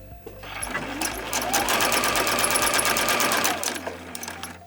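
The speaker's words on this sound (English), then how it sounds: "I'm going to add a couple more rows of stitches to hold it in place." A sewing machine stitching rows of fabric onto cotton batting for a fabric bin, its rapid needle clatter speeding up into a steady whir and then slowing to a stop, close and clear with no talking.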